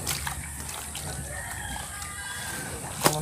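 Chickens clucking and a rooster crowing nearby, with bright intermittent calls and a sharp sound near the end over a noisy rural background, while a voice speaks.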